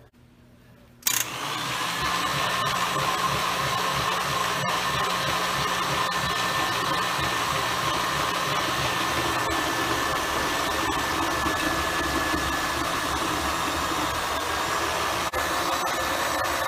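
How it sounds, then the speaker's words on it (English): A KitchenAid stand mixer with a shredder attachment shreds zucchini, its motor switching on abruptly and then whirring at a loud, steady, continuous pitch. "We'll go ahead and get our KitchenAid ready."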